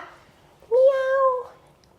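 A cat gives one clear, drawn-out meow of moderate loudness, alone and close.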